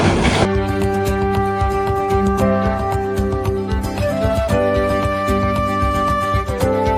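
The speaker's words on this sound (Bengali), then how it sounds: "চট্টগ্রাম রেল স্টেশনে এখন আছি আমরা।" A train at Chittagong railway station, heavy rail machinery and engine rumble with clanking and tonal hums, loud and close, no talk.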